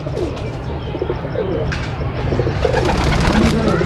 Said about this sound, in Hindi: 92 नंबर उस्ताद शहबाज के ये कबूतर है